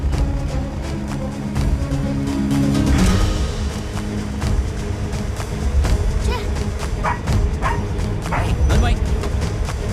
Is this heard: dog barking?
yes